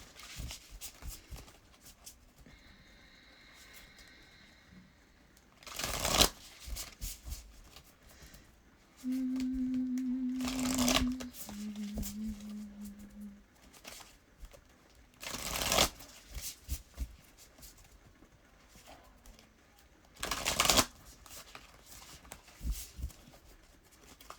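Tarot-style starseed cards being shuffled, close and loud, in four or five separate riffling bursts with quiet gaps and a few faint tones in between.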